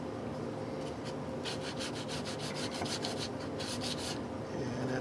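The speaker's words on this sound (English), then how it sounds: "Polishing with micro mesh, starting with 1500." Guitar frets on a Xaviere Pro500 LP-style electric guitar are polished with 1500-grit micro mesh, giving close, soft rhythmic rubbing strokes that come in quick repeated bursts over a steady low background.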